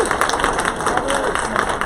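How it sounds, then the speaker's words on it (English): A conference luncheon audience applauds a lunch panel sponsor, dense steady clapping from many hands filling the room for about two seconds with a faint murmur of voices underneath. "join me in giving them a round of applause for the sponsor"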